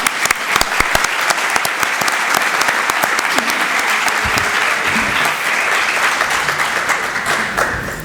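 A book-launch audience applauds steadily at a presentation in Bormujos, dense clapping filling the room at full volume with a few faint voices beneath it.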